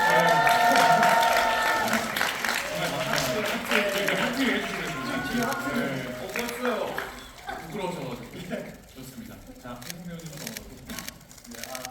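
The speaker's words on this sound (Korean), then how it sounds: "저희끼리 박수 한번 드리는 건 어떨까요? 오, 네. 박수를 다 같이." Theatre audience at the final curtain call of the Korean musical 'Your Wedding' applauds the staff, a dense crackling patter of many hands mixed with voices, thinning gradually toward the end as someone keeps speaking over it.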